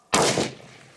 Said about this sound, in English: I'm just gonna keep shooting until they're all gone or I shoot the camera